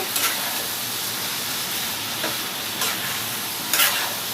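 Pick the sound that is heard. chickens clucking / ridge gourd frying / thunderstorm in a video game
ridge gourd frying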